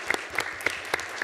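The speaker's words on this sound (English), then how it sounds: "Round of applause for the parents." A few scattered hand claps at a school board of trustees meeting come in a sparse, uneven rhythm, about five distinct claps within a moment, fairly faint.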